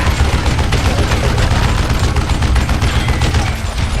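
Dense, continuous gunfire from the Western shooter video game Call of Juarez Gunslinger, rapid overlapping shots and booms loud and close with no pauses.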